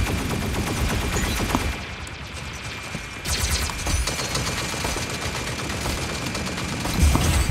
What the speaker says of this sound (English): Pulse cannon, eh?